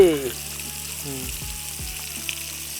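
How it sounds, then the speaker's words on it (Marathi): Prawns and chicken fry on hot roof tiles outdoors, giving a steady close sizzle, while a faint tonal hum and brief stirring scrapes sit over it. "झिंगे फ्राय होते आपलं चिकनसुद्धा मस्तपैकी फ्राय होत आहे"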